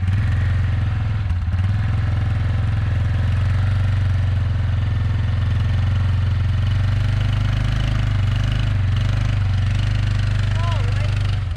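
A 4-wheeler's engine runs steadily and loud as it is driven up ramps onto a trailer, a continuous low drone with slight shifts in pitch throughout.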